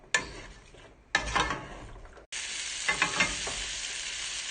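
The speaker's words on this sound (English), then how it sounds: "I'm gonna saute all of the vegetables. Just gonna mix everything into the oil." Vegetables sauté in hot oil while being stirred, a steady bright sizzle broken by short gaps, with scraping stir sounds rising through the frying noise.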